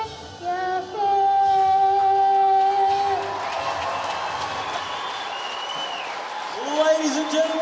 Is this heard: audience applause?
yes